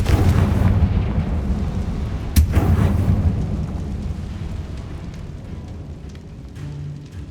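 A Confringo blasting spell in Hogwarts Legacy bursts with a loud, deep boom, a sharp crack cutting through partway, then a long rumbling tail that slowly fades.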